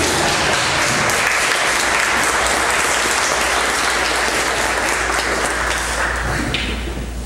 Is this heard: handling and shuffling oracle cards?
no